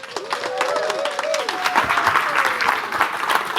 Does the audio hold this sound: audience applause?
yes